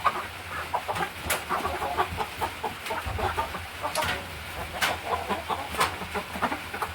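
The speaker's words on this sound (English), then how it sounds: "these are chickens that have been together, so they should be relatively calm about the situation" Hens clucking and squawking steadily while moved into transport crates on a small farm, with many overlapping close calls, sharp peaks and a busy, restless background.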